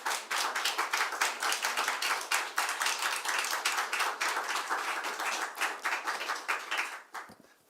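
Steady church congregation applause, many hands clapping together at a moderate distance, fading out at the end.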